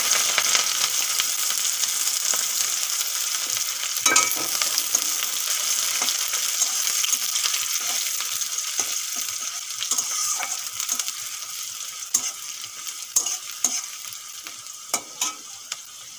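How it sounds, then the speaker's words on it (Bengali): Onions frying in a pan with black cumin and whole garam masala, a loud continuous sizzle up close with intermittent spatula scrapes and clinks. "পেঁয়াজগুলো ভেজে নিয়েছি"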